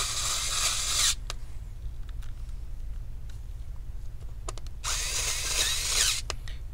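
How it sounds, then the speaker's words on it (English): A power screwdriver drives screws back into a Dell Inspiron 15 7000 Series P58F laptop motherboard, with two short bursts of close, loud whirring that bracket a quiet stretch of faint clicks and small handling taps. "Go ahead and put all the screws back onto the motherboard."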